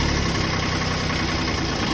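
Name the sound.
engine idling after a cold start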